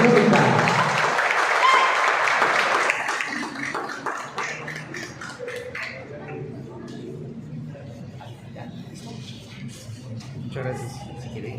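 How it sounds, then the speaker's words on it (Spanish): An audience applauds after a folk performance by an indigenous group, loud dense clapping at first that thins into scattered claps amid crowd murmur and talk. "Le reiteramos el aplauso a nuestros buenos amigos también de Alexandria por esta muestra folclórica."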